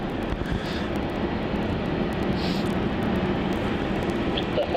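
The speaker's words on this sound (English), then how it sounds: "looks like we have another Qantas 737 coming out towards runway 3 for its departure" Qantas Boeing 737 airliner taxiing out toward the runway for departure at an airport, a steady broadband engine rumble and whine, distant and constant throughout.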